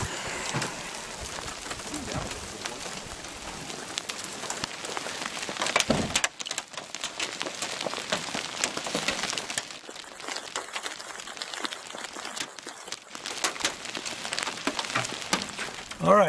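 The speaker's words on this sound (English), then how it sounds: "It's like 3 hailstones." Small hailstones patter and crackle steadily on a surface, a faint continuous scattered ticking with occasional sharper hits, and a voice speaking over it.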